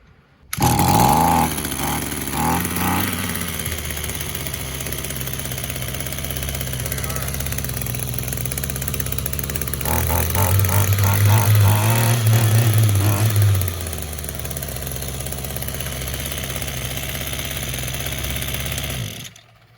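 An Echo GT200R string trimmer engine under rebuild starts, revs with a few throttle blips, then settles into a steady buzzing idle with a short louder rev partway through, close and loud.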